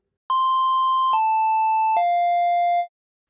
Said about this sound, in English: Start off a triangle wave.